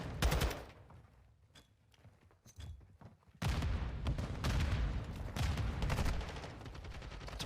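Gunfire in a Call of Duty League match of the video game Call of Duty: sparse shots at first, a quieter lull, then dense rapid bursts of automatic fire close by.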